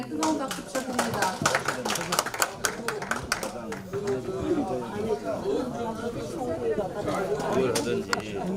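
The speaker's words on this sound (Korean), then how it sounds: "다시 한번 선배 동료 의원님들의 뜨거운 박수 부탁드립니다." Lawmakers clap warmly at a Liberty Korea Party caucus meeting, a room full of hands applauding close by with some chatter mixed in.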